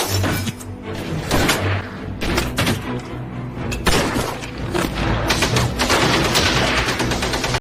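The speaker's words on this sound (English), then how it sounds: "Amidst a hail of bullets and explosions, Henrik finally summoned the entire army to" Battle scene from a war film about Polish versus German troops: dense, continuous gunfire with repeated heavy thuds and blasts of explosions throughout, loud and chaotic with no speech.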